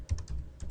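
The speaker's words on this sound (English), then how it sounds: "Now we're gonna type in the URL block." A few quick keystrokes on a computer keyboard as a web address is entered, soft close clicks in an uneven burst lasting under a second.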